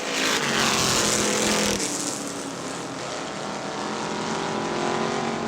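A street stock race car at Butler Motor Speedway roars past during a feature race, its loud engine sustained and then droning on as the car moves away down the track.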